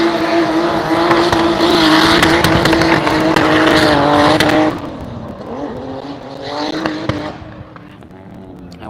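A drift car engine at practice in Cyprus sits hard against the rev limiter with a loud, raspy buzz. After a few seconds it drops to a lower, rougher tone, then briefly climbs again, with faint tire squeal in the mix.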